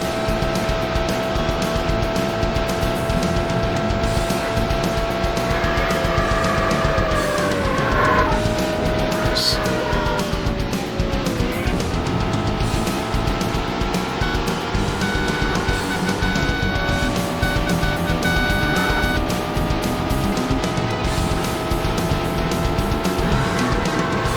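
Ferrari car engine in a Sega Saturn racing game, a steady loud droning whine that rises and falls with gear shifts, with occasional tire squeals over a continuous roar.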